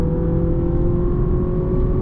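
A 2025 Honda Accord Touring hybrid accelerates hard in Sport mode with the pedal floored, its engine a loud, close, sustained drone with steady tonal whine that holds throughout.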